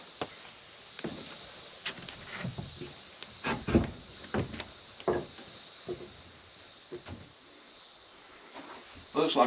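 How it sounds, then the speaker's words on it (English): Wooden cabin door at an off-grid cabin in Alabama on a hot July day: scattered close knocks, clunks and rattles as it is worked open, with quiet pauses between. "let's get in there and open the door"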